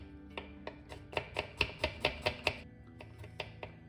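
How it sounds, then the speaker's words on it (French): Garlic is chopped with a knife on a cutting board, about a dozen sharp, close taps in an irregular then quickening rhythm, with no talking over them. "Alors, on va couper notre ail."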